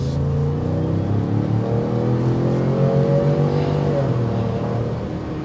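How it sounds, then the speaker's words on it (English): A 2023 Ford Expedition Timberline SUV engine revs steadily with a deep, throaty exhaust rumble, rising in pitch midway, loud and close throughout. "I like the exhaust note you get."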